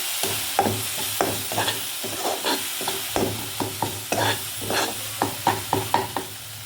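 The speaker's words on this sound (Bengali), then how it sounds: "এবার মশলাটাকে আর কিছুক্ষণ কষাবো" Spice masala with turmeric, Kashmiri red chilli powder and coriander powder sizzles and fries in a pan for a mushroom dish, while a spoon scrapes and stirs in repeated close, rhythmic strokes over a steady hiss.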